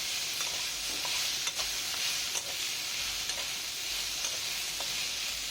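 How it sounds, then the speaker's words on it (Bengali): Potatoes fry in a pan while being turned with a metal spatula, a constant soft sizzle punctuated by sharp scraping taps every second or so, close and without speech, part of a bitter gourd and prawn recipe. "তুলে নিয়ে দেখো এখানে আমার আলুগুলো আমি একটু আবার মানে খুন্তি দিয়ে নেড়ে দিচ্ছি।"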